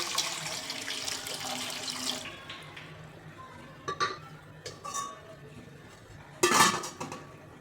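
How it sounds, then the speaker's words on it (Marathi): Water runs steadily into a metal idli steamer for a couple of seconds, then stops, followed by scattered clinks and clatters of steel vessels nearby, with no voices. "इडली बनवण्यासाठी हे स्टीमर ठेवलेलं आहे, त्यामध्ये पाणी ठेवायचं"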